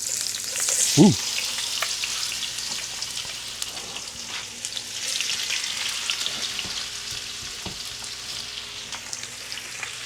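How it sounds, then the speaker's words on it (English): Steady, dense sizzling of homemade fries in hot beef tallow, close and continuous, with an occasional small clink. "See if we get us a sizzle"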